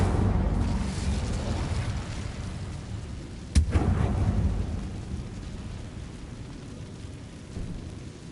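An Incendio fire spell cast in the video game Hogwarts Legacy: a steady low rumbling roar breaks into one sharp, loud burst partway through, then a shorter flare trails off into a softer, fading rush with no voices.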